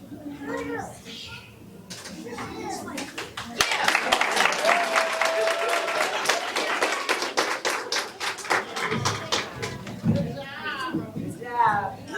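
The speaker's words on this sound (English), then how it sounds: "One more round of applause for her." An audience claps at a children's poetry night, a burst of applause that swells and fades over several seconds, with children's voices talking before and after it.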